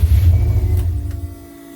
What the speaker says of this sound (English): it's go time for the first start of the engine